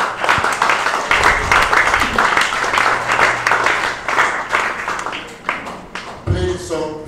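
Crowd at an evangelism, healing and miracles crusade claps together, a loud sustained wash of applause lasting several seconds before it thins and breaks off, with a voice and music cutting in at the very end.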